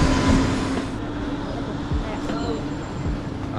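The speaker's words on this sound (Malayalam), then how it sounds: "ട്രെയിൻ വരുന്നു" A train rumbles into a station on the Visakhapatnam route in a heavy, continuous low roar and faint rail clatter, loud and close, with a voice partly audible under it.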